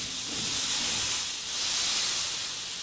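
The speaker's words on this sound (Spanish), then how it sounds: "lo que echamos acá a nuestra parrilla, aceite" Oil and chicken sizzling on a hot grill pan, a loud, close, continuous hiss that swells slightly and then holds steady, with no voices.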